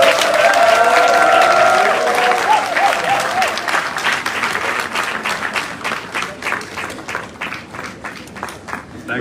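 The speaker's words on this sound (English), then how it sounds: "Shall we give another round of applause?" Applause from an audience at an honorary doctorate event for the First Lady of Sierra Leone, starting under a speaker's voice and background music, then settling into clearer, individual claps that gradually thin out.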